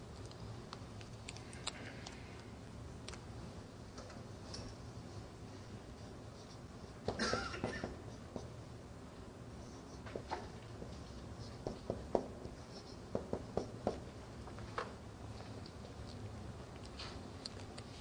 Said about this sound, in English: Let me write down here something else